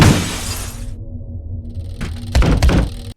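Glass shatters in the horror video game The Glitched Attraction: a loud, bright crash that rings out for about a second, then near-silence followed by a few heavy thuds and knocks.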